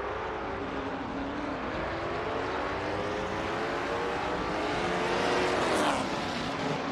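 Group 4 race cars in a racing video game launch from the start at Knutstorp, a dense, loud wall of engine roar rising together as the pack accelerates, with no talk.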